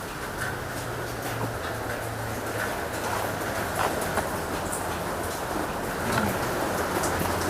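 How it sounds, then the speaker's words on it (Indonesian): Steady rain falls outside a building in Tangerang, a continuous dense hiss with a low rumble beneath, constant and fairly loud throughout with no talking. "Wah, hujan men."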